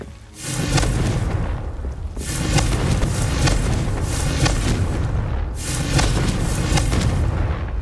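Confringo blasting spells in Hogwarts Legacy go off as heavy booming explosions, three big bursts spaced a couple of seconds apart, each leaving a loud rumbling tail.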